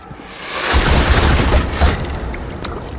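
Siege weapons fire their first volley in the action game Assassin's Creed Valhalla, a loud, heavy boom that swells into a long rumbling roar and then slowly fades, with no talking.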